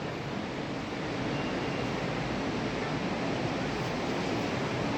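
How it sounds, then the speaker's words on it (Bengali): A mountain waterfall near a hotel in Manali roars as a steady, dense rush of water, unbroken and even throughout, with no voices. "আমরা ঝর্ণা দেখতে পাচ্ছি।"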